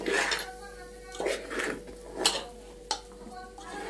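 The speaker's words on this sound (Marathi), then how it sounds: "आता मी बर्फीचं मिश्रण एकत्र करून ते हलवत आहे." A spoon stirs and scrapes through coconut barfi mixture with cardamom powder in a pan on a gas stove, making close clinking and scraping strokes while a voice talks over it.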